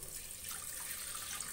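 Water poured from a cup into a pan of rice for tomato rice, a faint, continuous splashing trickle at an even level with no talk.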